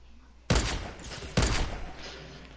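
Two loud, sharp sniper rifle shots from the Fortnite video game, about a second apart, each with a short ringing tail and nothing else around them.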